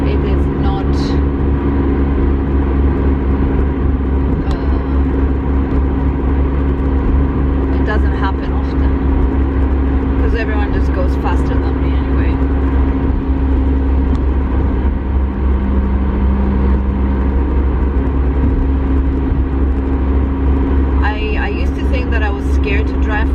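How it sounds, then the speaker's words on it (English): A car engine cruising steadily at 95 km/h, a constant loud road and engine drone filling the cabin throughout, with a person talking over it. "We are at 95 kilometers per hour, and that's as much as I can push this car."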